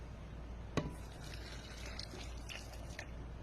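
Two cups of water pour into ingredients for a malunggay cracker mix, with a faint steady trickle and splash, a sharp clink near the start and a few soft drips, close and quiet.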